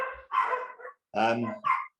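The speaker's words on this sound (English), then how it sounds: "Oh, dogs are there, mental, sorry." Dogs barking nearby in two quick bursts, the second deeper and fuller, with brief pauses between.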